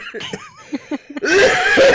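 A few short, hoarse coughs and throat sounds close up, followed by a louder burst of rough, breathy noise.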